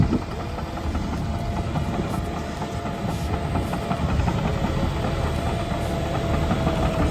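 A skid steer loader works on an excavation site, its diesel engine rumbling steadily and fairly loud throughout with a constant low drone and faint mechanical clatter, no voices.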